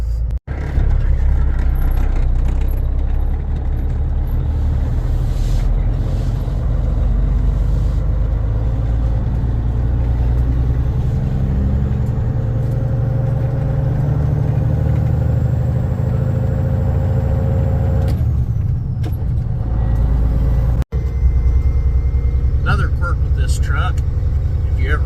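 A truck engine runs steadily with a low, continuous rumble as it drives off an incline, with a brief cut near the end before the engine noise resumes and someone talks over it.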